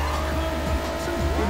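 A race car drifts at speed in the racing video game Juiced 2, with loud engine drone and squealing tires sliding through the turn in a short continuous burst.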